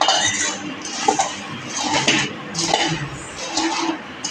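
A metal utensil scrapes and clinks in a pan of puffed rice (mamra) being roasted, with continuous rustling of the grains and repeated light taps, close and fairly loud.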